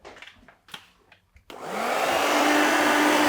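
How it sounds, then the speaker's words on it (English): A few soft rustles come first, then a hair dryer fitted with a diffuser switches on abruptly and runs as a loud, steady whoosh while drying hair during a haircut, with no voices. "we'll use the diffuser to dry the top"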